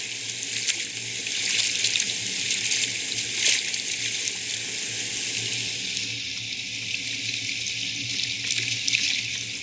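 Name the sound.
river flowing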